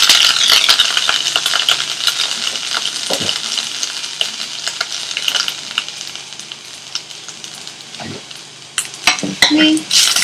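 Browned onions and ginger garlic paste sizzle in a pan for Indian-style beans while a utensil stirs, scraping and clinking against the metal over a steady frying hiss, with a few louder knocks near the end.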